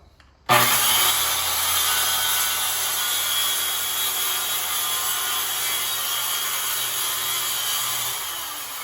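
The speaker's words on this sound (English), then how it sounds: "you want to make sure the platform is against the guide, the platform of the saw" A circular saw cuts through a wooden sub-floor, starting abruptly and holding a loud, steady whining, rasping drone for several seconds close by, then winding down slightly at the end.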